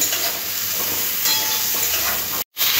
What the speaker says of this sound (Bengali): সবজিগুলো আমি ভাজবো।